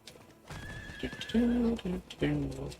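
Horse in the game Diablo 4 neighs and whinnies loudly in a couple of long calls, with soft hoof clip-clop underneath, heard close and clear without talk.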